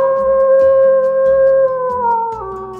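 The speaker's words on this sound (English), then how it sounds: "Wolf." A wolf howl in an animal-sound learning app: a loud, sustained tonal wail that holds steady and slowly falls in pitch over about three seconds, with a low rhythmic pulsing underneath and no talking.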